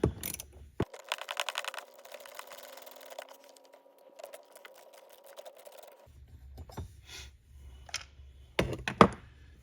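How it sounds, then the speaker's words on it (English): Two 1/4 inch bolts come out of a lawn mower bracket: a sustained mechanical whir runs for several seconds, then scattered metallic knocks and clanks, close and fairly quiet. "We just got to start by removing these two 1/4 inch bolts."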